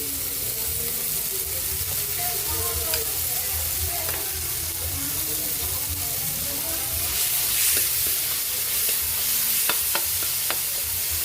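Alamang shrimp paste sizzles as it is stirred into pinakbet, a steady frying hiss with scraping and stirring clatter and occasional sharp utensil taps.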